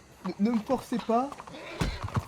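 In the video game Red Dead Redemption 2, horse hooves clip-clop in a few quick knocks near the end, mostly under someone speaking French.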